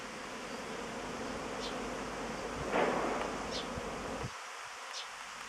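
Honeybees swarm in the air around an apiary hive just after rain, a steady close buzzing drone of many wings with a few louder passes, cutting off abruptly near the end.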